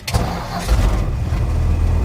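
An old truck, used for hauling cardboard to recycling, cranks over and catches into a loud, steady idle close by, with no talk.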